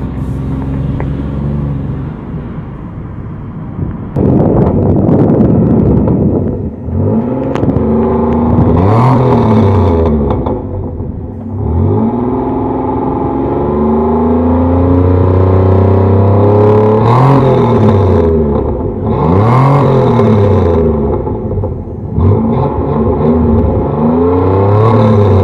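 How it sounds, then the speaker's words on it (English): A 1994 Camaro coupe with a custom exhaust revs and accelerates close by, its deep rumbling note rising and falling through several throttle blips and longer pulls. "get an exhaust note from the back"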